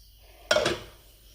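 Dried cassava stirred in a pot, a single short scrape and clatter of a utensil against the metal pot, close and fairly quiet, with near silence before and after.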